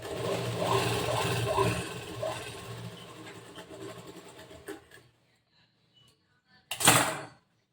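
Sewing machine stitching the folded side edges of lehenga fabric, a steady close whir for about five seconds that then stops, followed by a short sharp burst near the end.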